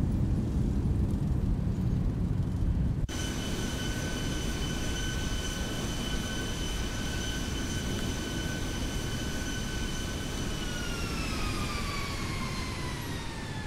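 A Zibo 737 in X-Plane 11 rolls out after landing with thrust reversers deployed, giving a loud, steady jet roar with a whining engine tone that gradually drops in pitch as the aircraft slows.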